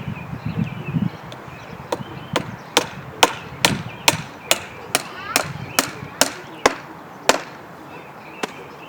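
Sharp, evenly spaced hammer blows drive 1.5 inch finishing nails into a wooden raspberry trellis at the joints, about a dozen crisp close strikes roughly every half second, preceded by a brief low rustle.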